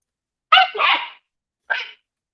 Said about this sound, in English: The puppy has feelings about it, apparently.